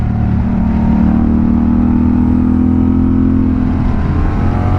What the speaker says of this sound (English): right and a left, downshift to fourth, downshift again